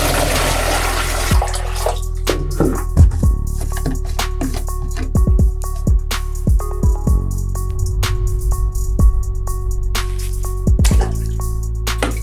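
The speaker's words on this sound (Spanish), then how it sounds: "ahora lo que haré será lavar todas las piezas de plástico con agua y jabón" Plastic parts from a Super Nintendo console being washed with water and soap, with steady running water, splashing and repeated knocks of the pieces against the sink, close and alone.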